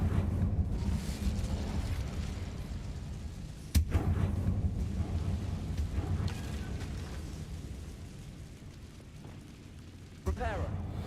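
Incendio fire spell cast in Hogwarts Legacy, a sharp burst followed by a rumbling whoosh over a steady low game soundscape, with another crack near the end; a voice speaks over it.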